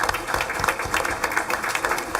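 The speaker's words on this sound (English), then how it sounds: "Let's give him a round of applause." People at a school district board meeting give a round of applause, a soft, continuous patter heard from a distance.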